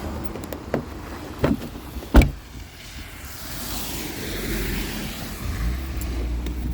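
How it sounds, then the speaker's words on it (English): A car engine cranks and starts in snowy winter weather after its door is opened, with a few sharp knocks and thuds before it settles into a steady idle rumble close by. "Car is now started."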